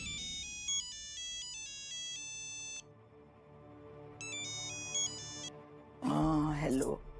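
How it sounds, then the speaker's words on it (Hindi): A phone ringtone plays as a repeating melodic tune in two bursts with a pause between, loud and close, followed by a sudden louder blaring dramatic sound at the end. "फोन आया।"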